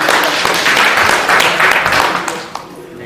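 An audience at a Korean event held in the National Assembly applauds a chairman, a loud, busy round of clapping that holds steady and then tapers off toward the end.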